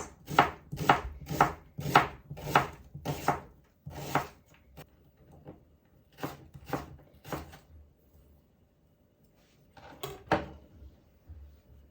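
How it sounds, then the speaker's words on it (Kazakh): An onion finely chopped with a knife on a board, heard as rapid, evenly spaced close knocks in bursts with short pauses, crisp and alone with no talk. "Жуаны осылай майдалап тұрып аламыз."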